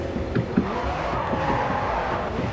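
Car drifting in the racing video game GRID 2: a steady engine drone with a continuous low rumble and a few brief scuffs, holding at an even level for the whole stretch, with no talk.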